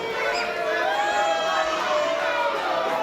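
Wrestling crowd at an Integrity Wrestling show in Australia cheering and shouting for the wrestler Woodstock, a steady dense roar of many voices with high shouts rising throughout.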